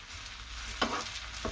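Grated potatoes sizzle in a hot pan for hash browns, a short quiet stretch of frying hiss with a couple of brief stirring scrapes.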